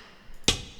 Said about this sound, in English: and these two rim shots.